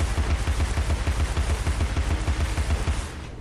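Rapid-fire shots from a weapon in Alice: Madness Returns hammer out in a fast, even stream of punchy low thuds, loud and up front, then cut off just before the end.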